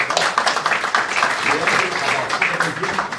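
An audience at a forum applauds a health speaker, a dense burst of clapping from many hands, close and fairly loud, steady throughout.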